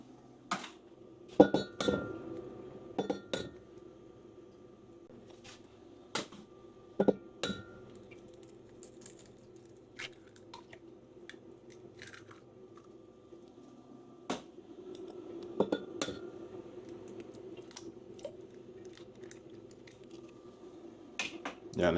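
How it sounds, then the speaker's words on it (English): A utensil clinks and scrapes against a pan in scattered bursts, sharp metallic taps separated by quiet stretches over a low background hum. "Need to scramble up these eggs."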